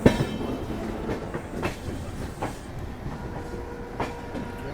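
The 12952 Mumbai Central Tejas Rajdhani Express departs New Delhi railway station with a continuous rumbling rattle of carriages and a rhythmic clickety-clack of wheels over rail joints, heard close and steady with no talking.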